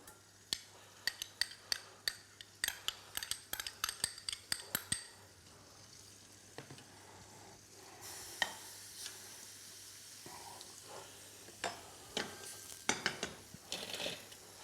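Garlic and onions fry in olive oil in a pan, heard as a quiet sizzle with a quick series of light clicking taps early on, then a softer, fuller frying hiss with scattered knocks.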